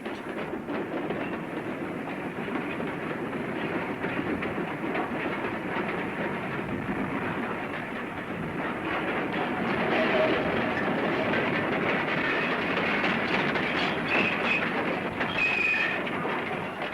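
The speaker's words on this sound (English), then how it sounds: "we'll follow the goods train through the town of Highbridge to its lonely end." A goods train rumbles steadily along branch line rails through Highbridge, its wheels clattering continuously, growing slightly louder and closer toward the end with a faint high squeal.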